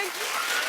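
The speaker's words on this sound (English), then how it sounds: "Keep clapping." A brief, dense burst of studio audience applause on a daytime talk show, steady and full for under a second.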